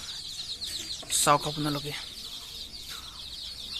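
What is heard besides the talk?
small chickens clucking on a small farm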